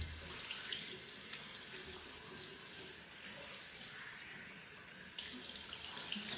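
A water tap runs continuously into a sink while cold water rinses a face after cleansing, a steady, close, full hiss of flowing and splashing water with no voices.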